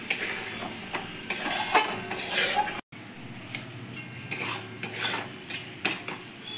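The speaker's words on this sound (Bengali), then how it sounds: "এবার আমি মটরশুঁটিটা দিয়ে দিচ্ছি। ভালো করে একটু নাড়াচাড়া করে নিতে হবে।" A spoon stirs green peas in a pan for mattar paneer, with repeated clinks and scrapes of metal against the pan, irregular and close, and a faint sizzle beneath.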